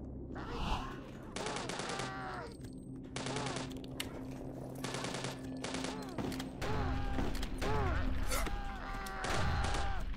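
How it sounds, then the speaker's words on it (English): Bursts of automatic gunfire from the retro shooter game HROT, several rapid volleys separated by short gaps amid other game effects and a voice, loud and close throughout. "Shooting."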